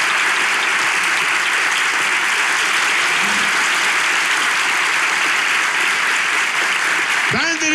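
Studio audience applause closing a Turkish relationship-quiz talk show, a dense, steady wash of many hands clapping at close range throughout, cut off by a brief noise at the end.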